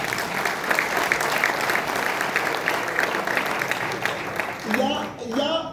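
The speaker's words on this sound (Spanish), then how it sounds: "Denle un aplauso, está haciendo un buen trabajo." An audience at a Bible science seminar claps steadily for several seconds in dense, moderately loud applause, which fades as a voice begins speaking at the end.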